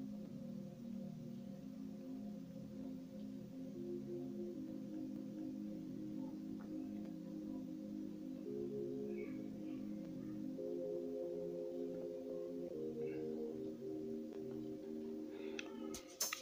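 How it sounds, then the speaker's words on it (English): Synth chords from a VCF instrument in FL Studio Mobile, soft sustained tonal chords changing every few seconds in a mellow, steady progression, heard alone without speech. "So which my other instrument are my chords, the VCF chords"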